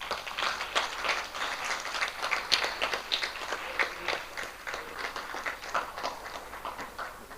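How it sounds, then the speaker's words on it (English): An audience at a live-streamed roadshow event in Ghana claps for the guest of honor, a sustained ripple of many hands, moderately distant and even, carrying on without talk. "One more time, ladies and gentlemen, a round of applause for our guest of honor"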